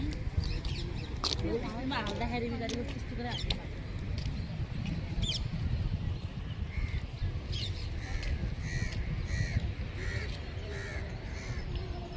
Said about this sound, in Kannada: ಕಾಗೆಗಳು ಇದ್ದಾವೆ ತುಂಬ